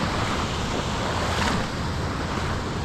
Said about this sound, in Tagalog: Low tide na malaki ang alon.